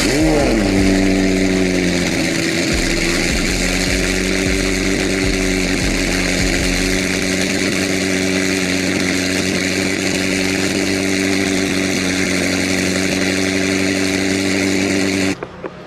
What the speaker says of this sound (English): What I'll do is I'll do a little cold start